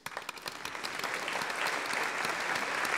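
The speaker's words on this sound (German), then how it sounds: "Danke, danke für den Applaus, danke für den Applaus." An audience at a 1976 Muppet Show-themed gymnastics club show in Buchrain applauds, a dense wash of clapping that swells and grows fuller over three seconds, heard from within the hall.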